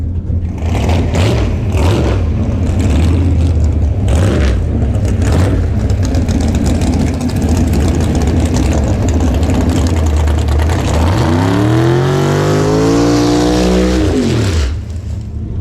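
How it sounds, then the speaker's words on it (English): An old Pro Stock drag race car engine idles with a heavy, loud rumble, then revs up sharply in rising surges before cutting back near the end. "This old Pro Stock car. Check this thing out."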